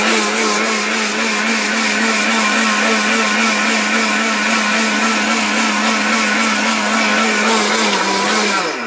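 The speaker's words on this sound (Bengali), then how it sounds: "এরকম একটা ব্লেন্ডার যদি বাসায় থাকে তাহলে কিন্তু নিমিশেই আপনারা সবকিছু সব এই যে ব্লেন্ড করে কিন্তু খেতে পারবেন।" An electric blender grinds food into powder with a loud, continuous motor whine that stays steady throughout and winds down slightly at the very end, with no voices.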